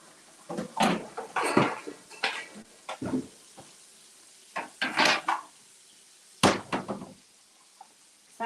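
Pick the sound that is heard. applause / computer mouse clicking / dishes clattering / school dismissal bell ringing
dishes clattering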